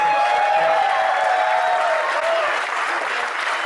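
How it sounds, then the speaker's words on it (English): A crowd applauds at a rock and roll ribs anniversary celebration, with dense, loud clapping that holds steady and then eases slightly toward the end. Faint voices and cheering come through underneath. "So another big round of applause for the Coral Springs"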